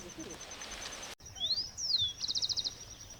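Wild birds call outdoors in San Miguel del Monte, Argentina: a clear rising and falling whistled note followed by a quick run of bright repeated chirps, with faint background bird sounds earlier.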